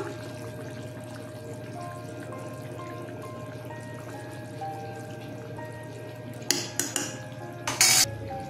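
A large spoonful of ghee goes into a simmering curry of chana and matar dal fritters. A low steady bubbling runs throughout, and a few close metallic spoon clinks against the pot come near the end.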